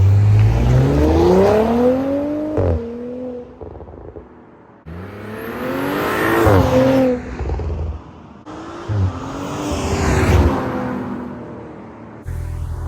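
An Audi S4 tuned by ABT revs hard through the gears, each pull rising in pitch before a quick shift drops it back, three loud climbing runs with brief pauses between, no talk over it.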